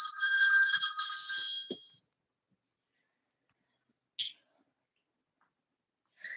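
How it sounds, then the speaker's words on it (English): A telephone ringtone trills loudly during a yoga class for about two seconds, then cuts off into quiet, broken only by a brief faint chirp and another short snatch of ringing at the end. "I'm sorry for the phone ringing if you can hear it."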